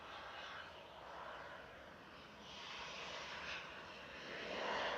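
A Ryanair jet bound for Malta roars steadily at Manchester Airport, a broad, continuous engine rumble that swells slightly toward the end with no talk over it.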